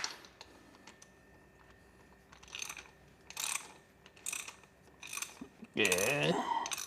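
Ratchet wrench loosening the oil drain bolt on a Suzuki V-Strom 250SX motorcycle, bursts of quick clicking ratchet strokes, close and moderately loud, with a short voice near the end.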